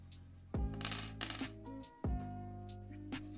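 Metal bolts set down on a hard surface, heard as a few sharp clattering clinks with ringing metallic decay, close and fairly loud, with no talking.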